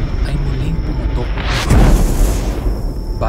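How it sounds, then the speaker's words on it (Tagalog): A phreatic, steam-driven volcanic eruption gives a deep, rumbling boom that swells midway through, over a continuous roaring wash of noise, with no clear individual blasts. "nagkaroon ito ng phreatic eruption o steam-driven eruption"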